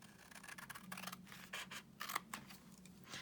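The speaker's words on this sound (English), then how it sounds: "I find that long bladed scissors are easier for this because you don't have to snip quite so much" Long-bladed scissors snip and slice through paper in a series of crisp cuts, close up, with soft scratchy rubbing between strokes.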